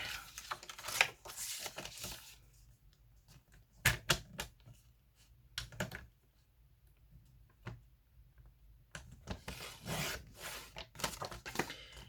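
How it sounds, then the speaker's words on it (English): A small cutter slices through paper book pages in short bursts of crisp, rapid clicking and scraping, with quiet gaps between bursts, close by. "so I'll get my little cutter out again and just cut that"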